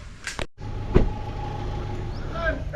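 A car on a rural road in Camiling, Tarlac, heard from inside with a steady low engine and road rumble, a door thud near the start and faint voices.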